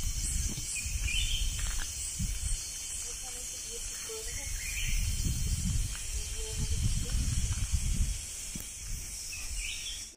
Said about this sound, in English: So many of insects are calling wonderful experience.